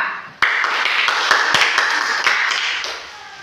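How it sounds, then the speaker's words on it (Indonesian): Students in a classroom clap for a group after its presentation, a sudden burst of close, crisp applause that holds steady and then fades slightly toward the end. "tepuk tangan untuk kelompok 2"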